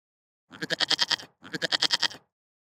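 A cartoon goat bleats twice, each a rapid, wavering call of about a second, with a short gap between, loud, close and clean against silence.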